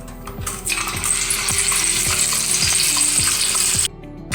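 Raw banana wafers slide into hot oil in a kadhai and start frying with a steady, dense sizzle and crackle that runs close and loud for several seconds, then cuts off sharply, with faint low clinks beneath.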